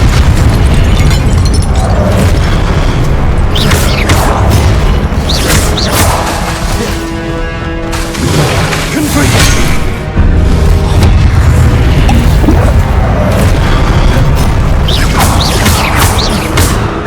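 Confringo blasting spells explode again and again in Hogwarts Legacy, loud booming bursts and crashes that follow one another almost without pause amid a dense, rumbling game soundscape.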